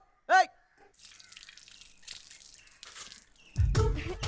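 Hands washed under running water from a tap: a single bright drip-like plink early on, quiet movement sounds, then a sudden loud rush of water near the end.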